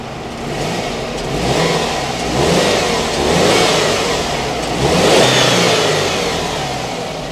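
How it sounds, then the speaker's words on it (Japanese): A Subaru Impreza WRX STI Spec C Type RA 2005 engine revs up and down in several swells, loud and close, with a deep rumbling growl and no voices. "ちょっとアクセル開けますか。"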